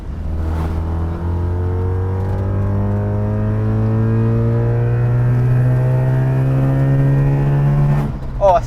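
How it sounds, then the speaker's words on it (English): A 1972 Mazda RX-3 rotary engine revs close and loud, holding a smooth, buzzing drone whose pitch climbs steadily over several seconds before it drops off at the end. "Oh, such a unique noise, that rotary engine"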